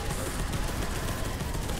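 Rapid gunfire in the game Space Hulk: Deathwing, a dense, loud barrage of overlapping automatic shots that runs without pause through the short stretch.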